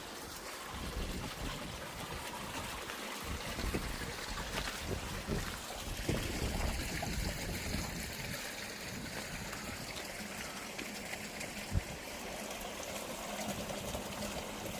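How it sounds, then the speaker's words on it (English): A waterfall pours down into a lake, giving a steady, even rush of flowing water with no one speaking. "I guess it's gonna be a waterfall down here, because when you go down you have like a lake down there"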